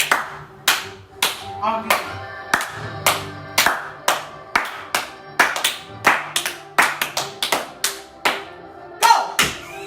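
Hands clap in a playful clapping game, sharp claps in uneven bursts and pairs heard close and loud, with voices talking between them.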